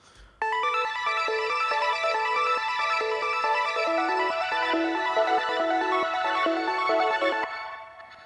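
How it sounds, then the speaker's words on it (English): A bright video-game-style synth arpeggio melody built in FL Studio for a pluggnb beat, with EQ and reverb, runs as quick repeating stepped notes, steady and loud throughout, stopping just before the end. "It's like a video game sounding kind of ARP."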